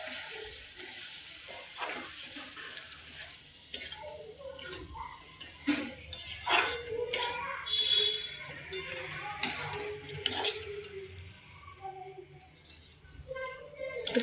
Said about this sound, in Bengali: একটু কষিয়ে নিচ্ছি ভালো করে।